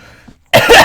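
A single sharp, loud cough bursts out after a moment of near silence, close to the microphone and with nothing else heard.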